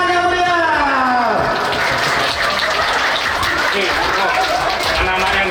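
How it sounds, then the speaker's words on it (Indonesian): Applause at an Isra Mi'raj commemoration in a residential community in South Lampung, a dense steady clapping from the crowd that swells after a voice speaks at the start and continues loudly to the end. "Kasih tepuk tangan yang meriah."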